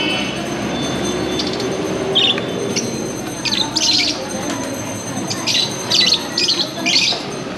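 Captive sparrows give short, sharp chirps and squawks in scattered bursts, near and fairly loud, over a steady low rumbling background.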